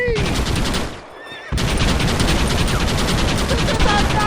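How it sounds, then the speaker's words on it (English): Dense, continuous gunfire from a shootout in the Western video game Red Dead Redemption, rapid overlapping shots filling the scene loudly, with a brief drop around one second before the barrage resumes at full intensity. "Why are they all shooting at me?"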